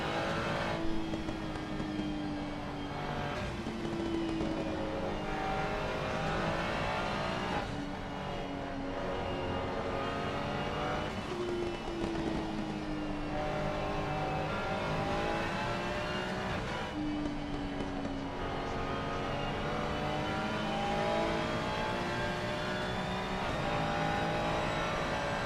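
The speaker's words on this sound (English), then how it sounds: "We're going to give you a lap on board in the Mustard 27 Ferrari." Onboard Ferrari race car in a sim racing broadcast at Suzuka, engine screaming steadily at high revs, pitch rising through each gear and dropping sharply on upshifts and braking, loud and continuous for the whole lap.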